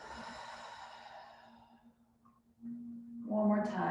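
A slow, audible exhale during a seated chair pilates breathing exercise, trailing off into quiet before a louder breath or movement begins near the end.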